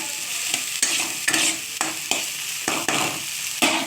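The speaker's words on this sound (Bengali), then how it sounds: "ভালো করে পেঁয়াজটা ভালো করে কষিয়ে নিতে হবে।" Onions frying in a pan while being stirred, a close steady sizzle broken by regular scraping strokes of a spatula roughly every half second, with no voices.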